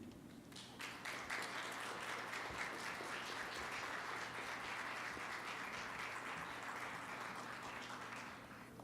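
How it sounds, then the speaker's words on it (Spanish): An audience at a talk on mining and extractivism in Central America applauds a speaker, with sustained, even clapping from a moderately sized room heard at a slight distance, rising at the start and tapering at the end. "Pido, por lo tanto, un fuerte aplauso para Yanira"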